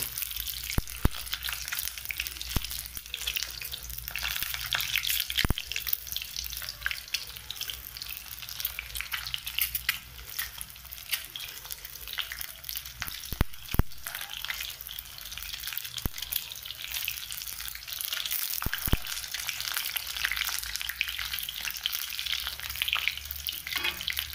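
Egg and potato curry ingredients fry in hot oil in an Assamese home kitchen, giving a steady, close crackling sizzle with scattered sharp pops and no talking.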